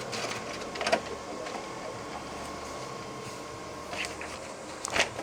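A Xerox copier prints a test page, giving a steady mechanical whir with a few soft clicks and paper-feed bumps, heard alone at moderate distance.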